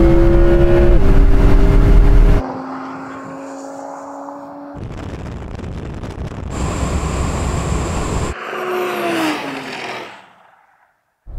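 Audi RS6 and Audi R8 accelerating hard in a drag race, a loud close engine roar with a kick-down gear change, then wind-buffeted rushing as the cars pull away and fade to near silence.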